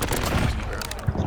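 Gunfire in Call of Duty Warzone on Rebirth Island, a dense, continuous crackle of rapid shots with a few heavier thumps, loud and close, across a short burst.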